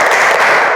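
Schoolchildren in a classroom doing a short ice-breaking clap, a brief, loud burst of many small hands clapping together for under a second, close and without talk.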